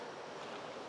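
Deep Creek in the Smoky Mountains flows beside a hiking trail, giving a steady, faint broadband rush of running water with no voices.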